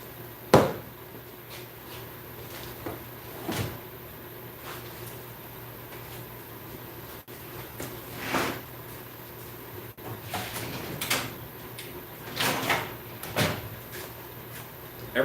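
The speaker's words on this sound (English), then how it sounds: "I just looked in the wrong drawer for my heat gun." Wooden shop drawers and cupboards bang open and shut in a busy workshop while someone hunts for a heat gun, giving a string of sharp knocks and slides spread irregularly over a quiet background.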